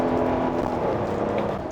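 A Hyundai Palisade SUV rushes hard through a tight corner, a loud, dense wash of road and engine noise from inside that swells briefly and then eases slightly.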